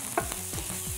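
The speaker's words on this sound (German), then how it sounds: "Ich höre es schon brutzeln." Food crackles and sizzles steadily in a hot pan, with a brief scrape of stirring near the start and soft clinks throughout.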